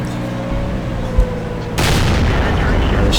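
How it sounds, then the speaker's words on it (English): A tank's main gun fires in a tank video game on the Komarin map: one sudden, loud blast about halfway through, followed by a sustained roaring rumble over the steady game background. "Managed to get one shot into him, he dips a bit low"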